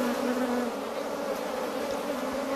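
Honeybees buzz steadily at an open beehive during a queen change, a dense continuous drone that stays close and even throughout with no talking.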